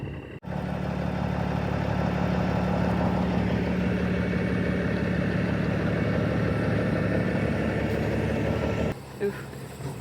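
A big tow truck's engine idles nearby with a steady, low, droning rumble that fills the whole stretch before it cuts off near the end; people talk over it.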